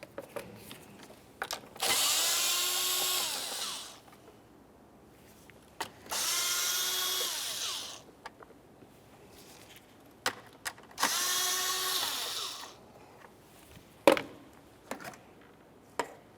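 Three separate bursts of a small power tool whirring as 7mm screws are backed out of a plastic top plate on a 2001-2005 Ford Explorer Sport Trac, near and moderately loud, with light clicks and handling noises between the bursts.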